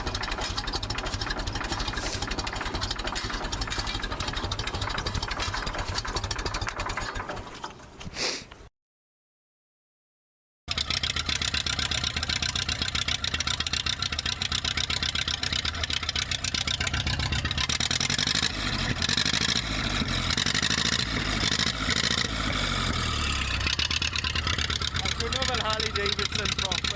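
A Ferguson TED 20 tractor engine runs steadily with a dense, rough mechanical drone, close by; a short gap of silence breaks it, then the running resumes, with voices talking over it at times.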